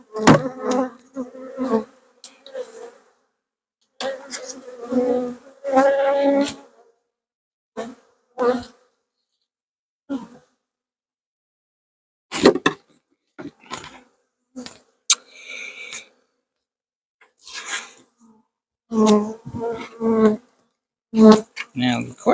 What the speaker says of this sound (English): Quite a few bees on the inside here.